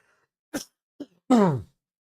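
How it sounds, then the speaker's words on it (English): A couple of short throaty coughs followed by a rougher, drawn-out throat-clearing cough, close up in a quiet room. "my cough is terrible today"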